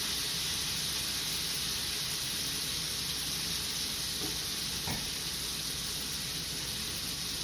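Steak sizzling in a hot pan after Worcestershire sauce is added: a loud, steady, close frying hiss that holds throughout, with a faint scrape or two and no talking.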